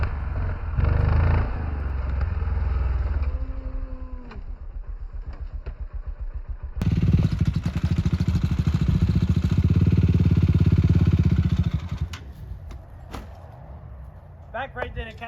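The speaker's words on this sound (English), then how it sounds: "let you guys listen to these engines rev" Motocross bike engines on a practice track idle and rev loudly in bursts, a steady low rumble swelling into sustained roaring, with a few voices and clanks near the end.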